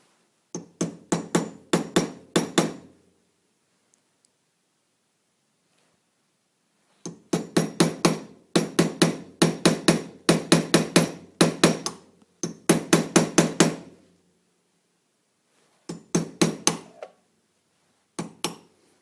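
Metal hammer tapping on a Smith & Wesson M&P Shield pistol to drive off its sights, struck in quick bursts of sharp clinks, each volley of several taps separated by short silent pauses, close and loud with no talking.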